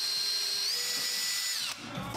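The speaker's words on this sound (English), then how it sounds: "I drilled three holes here" A power drill bores screw holes in a heavy duty bracket for wood storage, one brief high-pitched whining run that steadies and then cuts off abruptly near the end.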